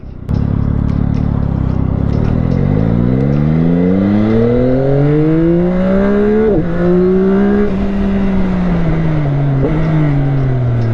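A Yamaha R9 sport motorcycle accelerating hard after break-in, its loud engine note climbing steadily in pitch through several gear changes, close and continuous with no talk.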